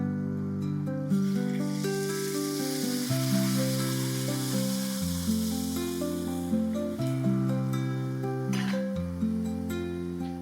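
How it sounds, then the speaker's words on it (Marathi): Powdered masala spices fry in oil for a Malvani surmai fish curry, giving a steady, continuous sizzle that runs beneath louder background music. "आता हे पावडर मसाले चांगले परतले गेले, थोडंसं तेल सुटलं"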